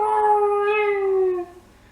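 A wolf howl used as a sound effect in a tabletop role-playing session: one long, loud, clear tonal howl that slowly falls in pitch and then fades out, with no talking.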